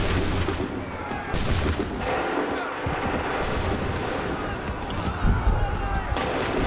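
Musket volleys crack out in a Revolutionary-era battle in Assassin's Creed 3, broadband gunfire bursts repeating over several seconds amid shouted orders and battlefield noise.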